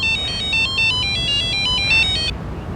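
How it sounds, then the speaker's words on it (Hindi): A phone ringtone plays a repeating electronic melody of bright beeping tones, loud and close, cutting off abruptly near the end over low background rumble. "राम कृपाल जी को भी अभी फोन करना था।"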